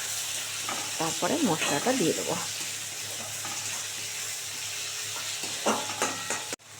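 Tomato, potato, onion and chili fry with spices in a pan, giving a steady close sizzle with some stirring scrapes, while someone talks over it.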